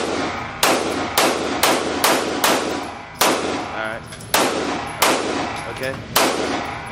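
Handgun shots fired at a shooting range, about eight sharp loud reports at irregular intervals, each with a short ringing decay; no speech in between.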